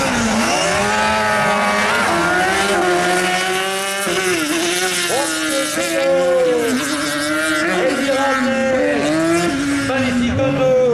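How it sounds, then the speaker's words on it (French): A speed car with a Suzuki engine races at a slalom event, its engine revving hard and shifting pitch continuously, loud and near, with a voice speaking over it. "magnifique auto, un speed car propulsé également par un moteur Suzuki de"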